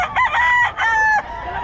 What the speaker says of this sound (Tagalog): Manok niya.